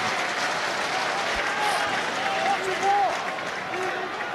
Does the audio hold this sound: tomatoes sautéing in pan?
no